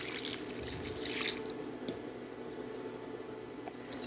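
Water is poured into a pot of chicken and lentils for shami kabab, giving a faint, continuous splashing and trickling with a few soft drips, heard alone without voices.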